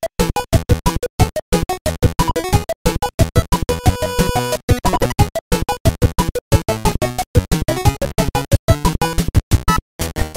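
Music from the NES game Kirby's Adventure plays as bright, bouncy chiptune music in a major key with punchy repeated rhythmic notes, loud and alone.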